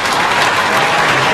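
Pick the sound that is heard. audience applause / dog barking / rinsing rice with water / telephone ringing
audience applause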